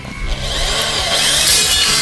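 Shrill, continuous whine of a drill turning an improvised cutter in place of a proper bit as it bites into material, loud and close, with a grinding rasp that builds steadily.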